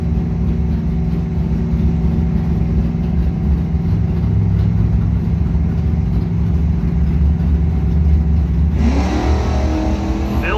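A Dodge Charger RT at a street drag racing event, its engine a loud, close, steady rumble that builds toward a sharp rising rev near the end, with no voices.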